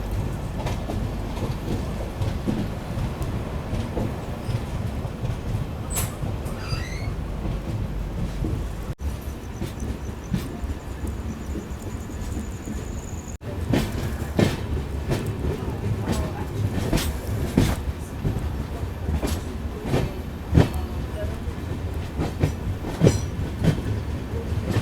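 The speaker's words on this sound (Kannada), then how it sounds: "ಇಲ್ಲಿ ನೋಡ್ರಿ ನಮ್ಮ ಟ್ರೈನ್ ಕುಡ್ಚಿಗೆ ಎಂಟ್ರ್ ಆತ" A Goa Express train rolls along the rails at steady speed, a continuous low rumble with scattered clanks and sharp clicks from the wheels and carriage, heard from inside the coach.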